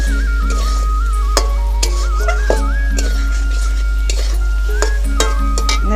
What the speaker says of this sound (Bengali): পরিমাণ মতো হলুদ দিয়ে একটু নেড়ে চেড়ে দেবো